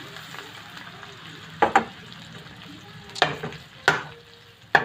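Mackerel goes into sautéed onions in a pan, giving a soft continuous sizzle punctuated by four sharp clacks and scrapes of a utensil against the pan.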